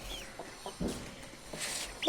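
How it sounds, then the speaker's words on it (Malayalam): Chickens cluck close by in short, irregular bursts over a low background, ending in a sharper, louder squawk. "ഈ കോഴിക്കളെ നമ്മൾ ഇന്ന് കൊണ്ടുവന്നതാണ്."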